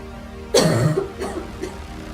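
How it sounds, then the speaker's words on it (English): A single harsh cough close by, followed by two weaker coughs trailing off. "I can't stop coughing."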